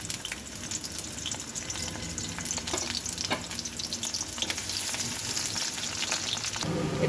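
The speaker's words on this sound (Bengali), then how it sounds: "এবার অল্প একটু পেঁয়াজ আমি এর মধ্যে ভেজে দেবো।" Chopped onion frying in hot oil in a kadai wok, a continuous close sizzle with bursts of spattering and occasional stirring scrapes, loud and steady with no talk.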